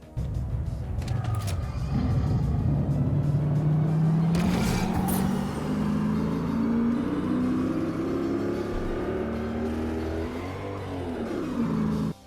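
Updated Fortnite video game car body engine running with a rough, rumbling drone that climbs gradually in pitch, with a couple of sharp bursts and a brief revving swell near the end, steady and unaccompanied by speech.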